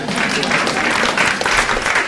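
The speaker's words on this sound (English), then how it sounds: "Everybody should applaud that." Audience applause at a university healthcare career program event, a steady, dense clapping wash from a full room that holds evenly for about two seconds.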